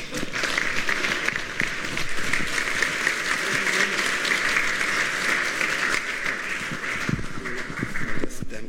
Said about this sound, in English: please help me giving him a good round of applause